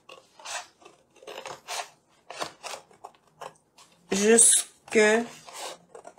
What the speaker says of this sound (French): Alors, je viens ici et je coupe.